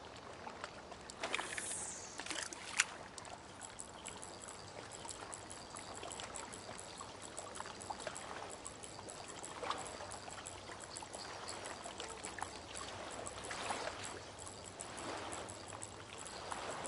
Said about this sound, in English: For the pond, the water sounds are a little bit too much.